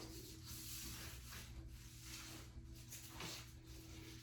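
Quiet, rhythmic rubbing strokes sweep repeatedly across a large-format floor tile surface being wiped clean during installation, close and soft with no speech.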